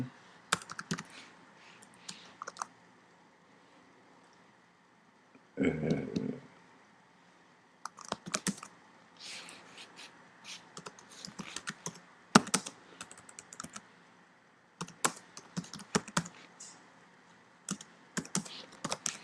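Typing on a computer keyboard while writing a text for an article, bursts of quiet clicking keystrokes with pauses between them, close by, with a heavier clatter partway through.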